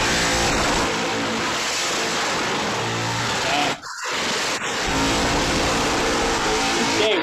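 A race car drives loudly through thick smoke at a chaotic motorsport event, its engine roaring steadily and close with a brief dip partway through, no talking over it.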